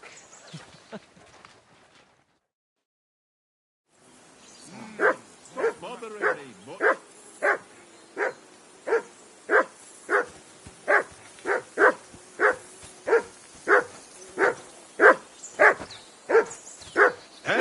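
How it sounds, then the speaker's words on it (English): A dog barks repeatedly in Kingdom Come Deliverance 2, a steady run of about fifteen evenly spaced, loud barks after a brief silence, with faint background ambience of a riverbank camp. "Henry! Whistle at that mutt of yours to stop barking!"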